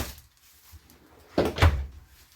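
A deep kitchen drawer in a 2023 Starcraft 225CK Super Lite RV slides shut with a quick double thud, close and fairly soft, after a quiet moment.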